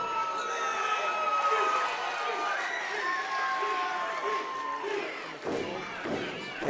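A wrestling crowd cheers and roars at a moderate distance, a steady swell of voices with a few whistles, while a commentator talks over it; a sharp thud lands near the end.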